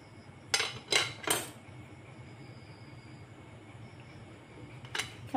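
A knife cutting rolled dough into strips for goja, three quick crisp cuts close together near the start and another toward the end, over a low steady kitchen hum.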